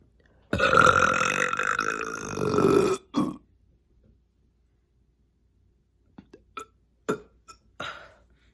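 A man burps loudly and at length at close range, one long drawn-out belch followed after a pause by a short second burp, then a few faint clicks and taps.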